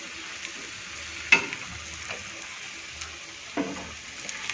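Malpua batter frying in oil in a pan for a Holi sweet, with a soft steady sizzle and a few sharper scrapes or taps of a spoon as oil is spooned over.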